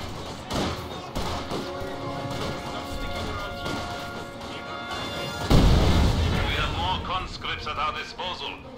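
A demolition charge detonates in Company of Heroes 2, a heavy crash and boom about midway through, rising out of busy battlefield noise with gunfire, thuds and impacts throughout.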